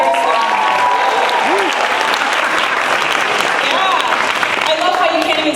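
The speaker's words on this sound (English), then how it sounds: "I love how you can't even see them but you're just clapping." A church retreat audience claps steadily throughout at an opening monologue, a full, continuous round of applause with a few voices and whoops rising over it.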